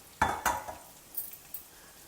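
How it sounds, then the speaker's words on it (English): Sesame seeds dry roasting in a pan give a few sharp pops and spluttering crackles close by, two quick louder bursts followed by fainter scattered pops. "Dry roast the sesame seeds till they start spluttering."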